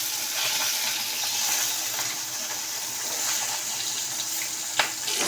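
Tengra fish fry in a pan with a steady, bright sizzle and crackle that holds throughout, with a small clatter near the end.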